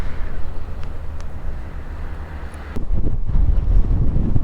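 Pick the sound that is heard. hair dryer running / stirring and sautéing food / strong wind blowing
strong wind blowing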